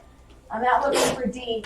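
One sharp sneeze bursts out in a classroom during a math lecture, sitting amid a man's nearby speech.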